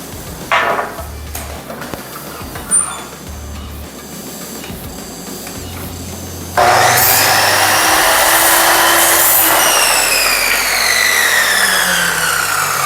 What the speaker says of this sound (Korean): 이렇게 커터기로 제가 자르고 있고요